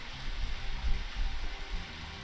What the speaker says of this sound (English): Yep. Started raining.